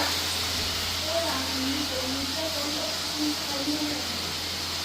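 Cabbage frying in a pan makes a steady, even hiss that runs throughout at moderate level, while someone talks over it.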